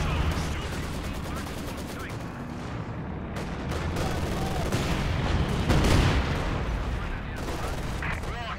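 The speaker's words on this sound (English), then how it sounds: "Very slow artillery barrage, not very strong because of that reason." Artillery barrage in Company of Heroes 2, with dense rumbling blasts and crackling fire layered over a busy battlefield, steady and distant-sounding, while a commentator talks throughout.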